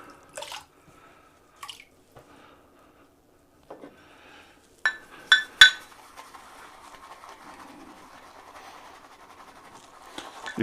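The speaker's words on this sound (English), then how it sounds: "You can see already how wonderful that lather is building up" Shaving brush working soap into lather for a wet shave, soft wet squishing and swirling strokes, faint and intermittent at first and then steadier and closer, with no talking.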